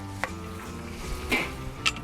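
Noodles stir-fried in a wok at a long-running roadside mi goreng stall in Perak with bean sprouts, prawn fritters and soy sauce: a low, faint frying hiss broken by a few sharp spatula clinks against the pan.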